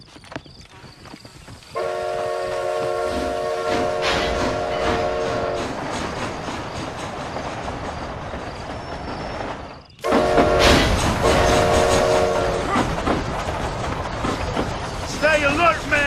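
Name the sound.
train running in Red Dead Redemption Undead Nightmare video game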